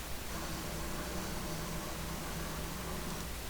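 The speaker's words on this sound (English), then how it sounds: "It's kind of like a lockup without like the crackling, kind of more of a vacuum cleaner sound" A steady, low-level broadband hum-hiss with no crackle, like an electric sabre held in a lockup or a distant vacuum cleaner, constant throughout.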